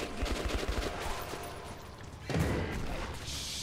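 Gunfire in the video game Metro 2033 Redux, rapid bursts of automatic shots at the start followed by a heavier boom and continuous rumbling game noise, fairly quiet overall.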